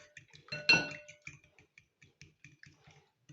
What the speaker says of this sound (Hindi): अंडों को अच्छी तरह हमने बीट कर लिया है।